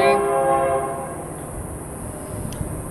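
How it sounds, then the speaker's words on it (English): A train passes nearby with a sustained horn blast at the start that fades as the train rumbles by, its rolling wheel noise continuing loudly to the end. "Hello, train!"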